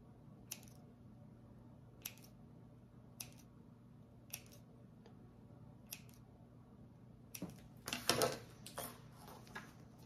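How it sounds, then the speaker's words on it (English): Scissors snip fabric along a curve of a bag pattern. About seven crisp, evenly spaced single cuts sound close and quiet over a low hum, then a brief cluster of louder rustling snips follows. "then I'm gonna snip again here on this curve"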